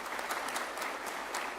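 Audience applause at a National Pharmacy Week celebration, a continuous crackle of many hands clapping, steady and moderately distant, with no voices over it.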